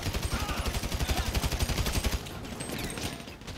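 Rapid bursts of video-game gunfire crackle in a steady rhythm for about two seconds during a Diamond Casino heist in GTA Online, then stop, leaving a quieter hiss of game ambience.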